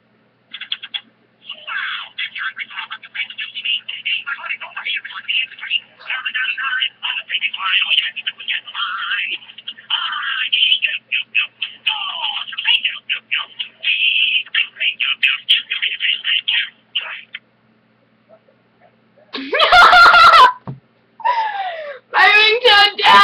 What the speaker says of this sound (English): My ringtone